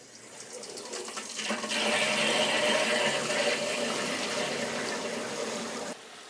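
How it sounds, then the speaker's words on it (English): Water runs through the lines of a newly installed tankless water heater while a faucet upstairs is open to purge air, a steady hissing rush that swells after a moment and holds, then drops slightly near the end. "I've got the faucet on upstairs so the water should purge."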